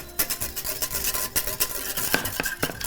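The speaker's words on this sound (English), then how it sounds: "and just whisk in your butter." A whisk rattles quickly against a metal pan as butter is beaten into a simmering sauce, with rapid clinking strokes over a soft bubbling background.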